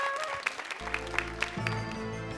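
Studio audience applause for Pedro, a contestant in a televised singing audition final, with scattered claps over a music sting that swells in and holds steady beneath.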